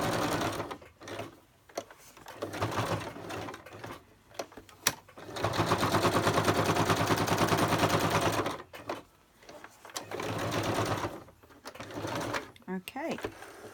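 A sewing machine stitches through the spine of a handmade mini sketchbook in several bursts of rapid, close mechanical whirring separated by short pauses, with a voice talking in the gaps.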